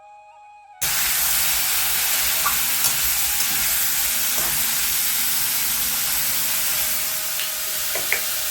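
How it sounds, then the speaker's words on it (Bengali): Bitter gourd and pointed gourd frying in a pan, a steady close-up sizzle with faint stirring clinks that starts abruptly and holds at even loudness throughout, with no talking. "আর এদিকে করলা আর কাঁকরোলটাকে ভেজে নেব, আস্তে আস্তে নেড়ে চেড়ে নেব।"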